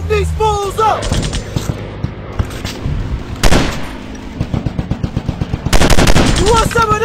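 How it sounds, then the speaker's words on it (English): An Android first-person shooter mission game fires off loud, rapid automatic bursts, rattling shots in quick rhythm with occasional heavier booms, mixed with game voice lines. "I'm shooting these fools up!"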